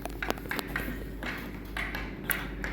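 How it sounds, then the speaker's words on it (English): Construction work going on in the background, a steady low rumble with scattered sharp taps and metallic pings, distant and fairly faint throughout. "some construction work is going on around me here"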